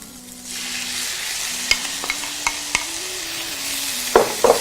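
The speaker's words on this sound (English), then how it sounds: "I love when I hear that sizzling sound." Red bell peppers hit a hot pan with onions and sizzle in a steady hiss, broken by a few sharp clicks and scrapes from stirring, close and clear with no talking.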